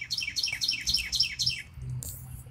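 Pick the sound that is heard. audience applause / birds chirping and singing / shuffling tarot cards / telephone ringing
birds chirping and singing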